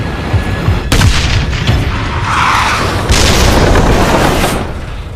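Rocket fired at a T-54 tank in a Vietnam War armoured battle, a loud sharp boom followed by a rolling, rumbling blast and a second heavy burst, close and dominant with no speech.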